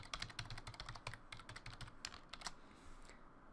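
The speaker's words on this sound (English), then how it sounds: "We'll create a password for them." A password typed on a computer keyboard: a quick, fairly even run of light key clicks up close, quiet, with no talk.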